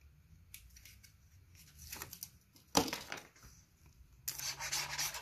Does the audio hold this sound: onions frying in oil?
no